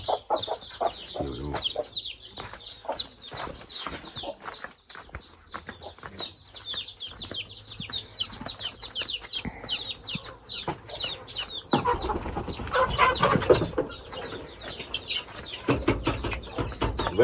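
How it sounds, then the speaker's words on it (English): Chickens clucking and crowing in an African village yard, a steady chorus of close calls and squawks with scattered farm noise, busier and louder toward the end. "Very, very beautiful chicken."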